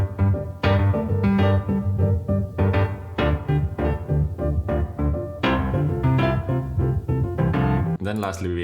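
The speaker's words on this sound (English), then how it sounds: "this is how the piano sounds like in solo" A piano part from an electronic track plays on its own, dense chords and melody notes struck in a steady, busy rhythm, loud and close, cutting off into a brief different sound at the end.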